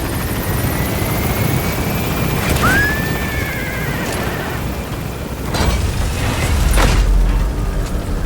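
A helicopter gains altitude in the video game Metal Gear Solid V, its loud rotor roar and engine whine sustained and close, swelling near the end, with a brief rising tonal chirp midway.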